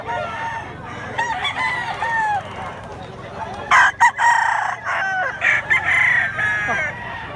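Several gamecock roosters of Grey and Kelso Roundhead bloodlines crow in overlapping calls against a busy outdoor background, with loud nearby crows and a few softer clucks between them.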